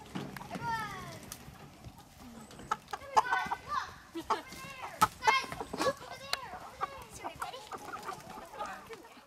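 Chickens cluck and squawk on a small farm in a busy, close chorus of irregular calls, with people and children talking over them.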